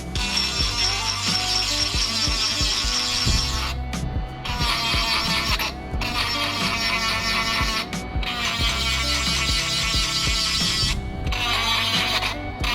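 Continuous grinding and whirring of a rotary tool sharpening metal hedge trimmer blades, with brief pauses where the whine cuts out and resumes.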